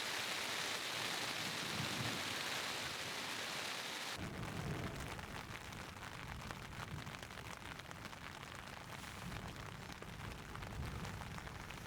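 Steady rain pouring down in the Wind River mountains, a continuous broadband hiss with low rumbling underneath, close and fairly loud for the whole stretch.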